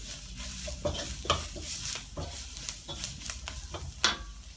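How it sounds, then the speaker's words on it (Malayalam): Spices and ginger sizzle and crackle in hot coconut oil, with occasional stirring scrapes in the pan; soft and close, no talking. "ഇത് നമ്മൾ വെളിച്ചെണ്ണ ഒഴിച്ച് തന്നെയാണ് വഴറ്റിയെടുക്കേണ്ടത്"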